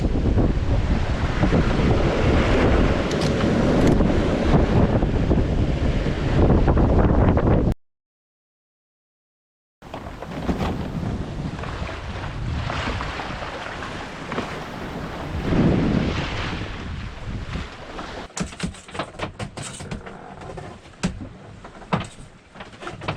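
Strong wind roars across a sailing boat at sea in the North Atlantic, buffeting the microphone over the wash of waves. The sound is loud and continuous, with a brief silent break partway through.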